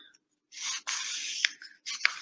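Sheet of 8.5 by 11 inch paper folded in half and creased for a handmade book, with a few short scraping rubs and two sharp crease snaps, close and alone.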